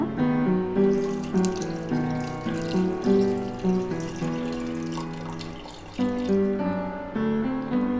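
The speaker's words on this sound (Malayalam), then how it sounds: "നമുക്ക് ആവശ്യമുള്ള വെള്ളം ആഡ് ചെയ്യാം" A continuous stream of water pours into a pot of tomato curry, splashing steadily for several seconds.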